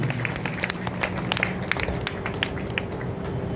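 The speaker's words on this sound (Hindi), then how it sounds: "एक बार जोरदार सगल तालियां इस पूरे पंडाल में बजाकर" A crowd claps steadily throughout a large pavilion at a religious gathering with saints, a dense, continuous patter of many hands that never lets up, with a faint murmur of voices underneath.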